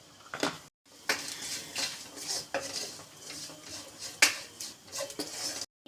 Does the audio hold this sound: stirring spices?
yes